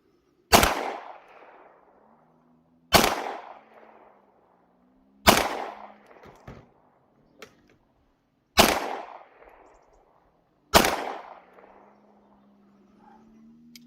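Five loud single gunshots from a handgun or rifle, fired by someone shooting it for the first time, ring out at a few seconds' spacing, each with a sharp crack and decaying echo, and faint mechanical handling noises between them.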